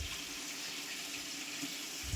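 Water pours in a steady, soft, even stream while undhiyu vegetables cook, a continuous hiss with no voices over it.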